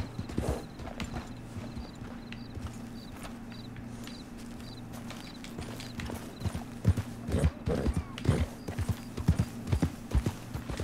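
Horse hooves clip-clop steadily in Red Dead Redemption 2, with a whinny, over a constant low musical drone; the hoofbeats grow louder and more prominent toward the end.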